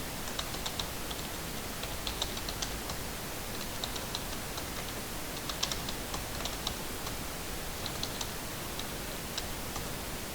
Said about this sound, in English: so if I type some name